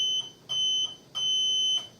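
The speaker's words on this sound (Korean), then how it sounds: "위에 체크 스위치를 눌러서 삐삐 소리가 나면 정상 작동되는 것으로 확인됩니다." Overheat alarm on a kitchen cooktop safety unit sounding its test beep: three sharp, high electronic tones with short gaps between them, clear and close, the third held longer, with no talking.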